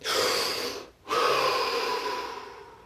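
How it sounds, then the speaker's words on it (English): A single deep breath drawn in during a guided relaxation exercise, a long airy inhale, a brief pause, then a slow full exhale, close and fairly loud with no talking. "Take a deep breath."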